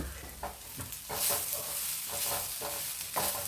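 A soybean roast with onion and curry leaves fries in a pan, giving a continuous sizzle with regular scraping stir strokes roughly every half second, close up and without speech.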